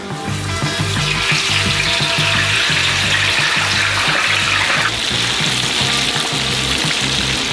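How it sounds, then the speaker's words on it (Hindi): Potatoes for giant french fries drop into a huge deep fryer of hot oil, filling the air with a loud, constant rushing bubble and hiss that shifts slightly partway through, with a low rhythmic hum beneath. "हम अपने आलू को गरम तेल में डुबोएंगे।"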